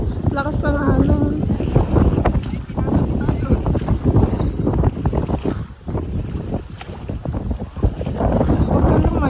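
Strong waves and wind at a shore during a camping trip, loud turbulent wash with heavy wind buffeting, and a voice calling out briefly near the start.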